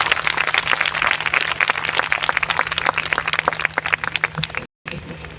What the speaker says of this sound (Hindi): पास्टर चार्ल्स रवि कुमार को ऊंचे तालियां बजा के हम उनका स्वागत करेंगे।